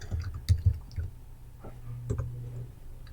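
Keys clack on a computer keyboard in a short, irregular burst of close clicks, a couple of them louder, with no talking.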